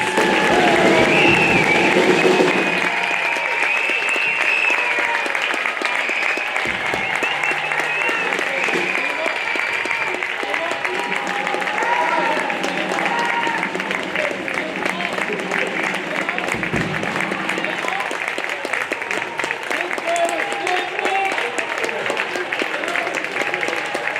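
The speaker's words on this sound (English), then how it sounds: "can we please give a huge round of applause for these wonderful young musicians" A concert audience gives a long, sustained round of applause for young band musicians, steady dense clapping throughout with some crowd murmur and voices mixed in.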